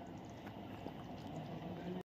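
Steady bubbling of a thick egg and soybean curry simmering in a pan, a continuous low burble with occasional pops, fairly quiet and close, no talking.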